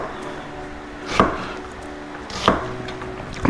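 Knife chopping onions on a board for spaghetti bolognese: two distinct, evenly spaced chops stand out against a quiet kitchen background, with a fainter tap at the very end.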